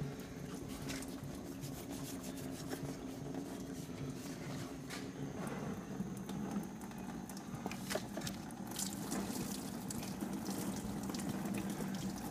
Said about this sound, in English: Usually set this hose like this so it drains out.